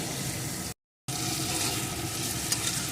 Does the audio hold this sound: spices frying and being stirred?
yes